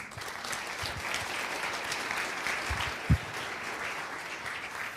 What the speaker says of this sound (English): So big round of applause for Tony Blankmeyer.